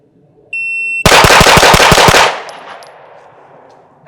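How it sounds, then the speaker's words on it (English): Seven rapid, loud pistol shots from a Glock fired in a quick even string on a shooting range, each crack sharp and close, followed by a fading ringing echo with no talk. "That was 7 shots."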